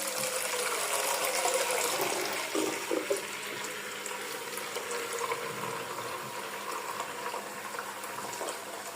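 Very hot water pours from a tap in a steady, fairly quiet rushing splash that shifts slightly in tone as the flow hits, with no voices.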